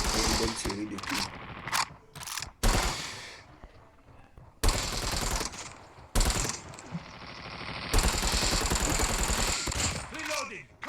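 Rapid automatic gunfire bursts and single shots from the Call of Duty Mobile video game, loud and close, with mechanical reload and weapon-handling clicks between volleys and brief quiet gaps.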